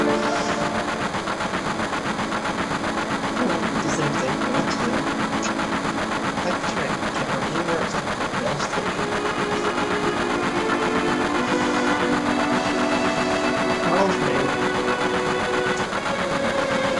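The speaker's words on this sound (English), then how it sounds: "The slum train." The slum train in Final Fantasy 7 rumbles along in a continuous, mechanical drone with steady rhythmic clatter, loud and unbroken throughout with no voices.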